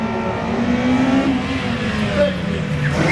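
A BMW E30 rally car from 1989, fitted with a turbocharged Japanese 2JZ engine making 600 horsepower, idles and revs steadily at a rally event, running loud and continuous under talk.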